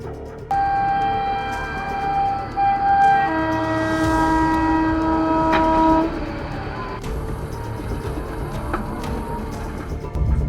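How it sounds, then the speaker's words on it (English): A passenger train's horn blares in long, loud blasts at a level crossing over the rumble of the passing train, and the rail noise continues after the horn stops. "a passenger train collided with a truck at a level crossing"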